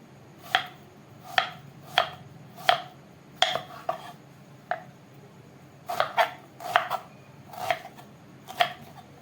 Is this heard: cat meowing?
no